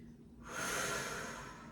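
A long, deep breath drawn in during a Pilates mat stretch, rising from quiet into a steady, breathy rush that holds to the end, close and alone.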